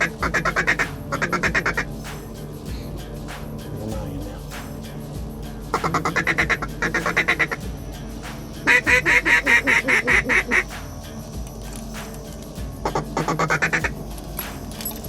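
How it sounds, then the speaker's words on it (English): Mallard ducks quacking in loud, rapid bursts of repeated calls, close by, with short quiet gaps between the outbursts and no talk. "And the mallards in the front on the left-hand side."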